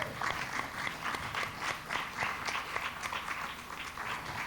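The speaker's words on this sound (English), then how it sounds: "So a big round of applause, please," A congregation at the Genesis Center for Spiritual Living claps together in a fairly regular, pulsing rhythm, moderately loud and heard from a little distance, without clear cheering.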